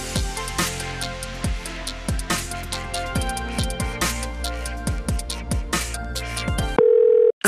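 A telephone line tone plays while a call goes through to a bank. A steady sustained tone runs for several seconds under faint rhythmic clicks, then ends in a short louder beep. It is close and clear, with no talking.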